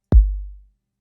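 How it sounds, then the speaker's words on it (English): A single 808 kick with its sustain pulled down, one loud punchy hit whose low boom fades out after about half a second, leaving silence behind it. "Get a much shorter kick"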